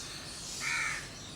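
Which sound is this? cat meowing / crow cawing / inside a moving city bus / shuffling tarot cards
crow cawing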